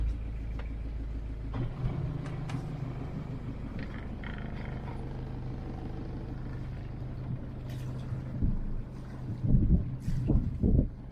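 A boat's inboard engine runs in forward gear, a steady low drone with wind buffeting the microphone, swelling louder and rougher toward the end.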